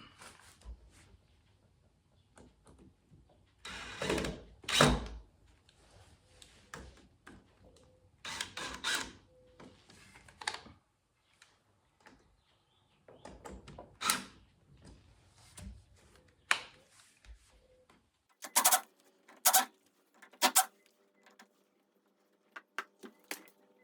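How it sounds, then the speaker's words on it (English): Screws are driven and tightened while a light is mounted on a 1969 Glasspar Tacoma 14 boat, with scattered short bursts of driving and scraping separated by quiet gaps, close and fairly soft, with no talking. "Okay, screws are nice and tight, and the light is mounted."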